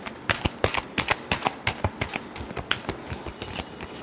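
Tarot cards are shuffled by hand at close range, a quick run of crisp riffling slaps and flutters in irregular bursts over about four seconds, with no talking.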